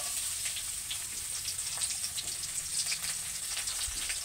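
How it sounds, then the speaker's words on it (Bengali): Chopped onion fries in hot oil over cumin tempering for a Bengali jackfruit and prawn curry, a steady, fairly loud crackling sizzle that runs continuously throughout with no voices. "পেঁয়াজটাকে ভালো করে ভেজে নিতে হবে।"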